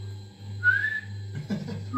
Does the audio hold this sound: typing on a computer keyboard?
no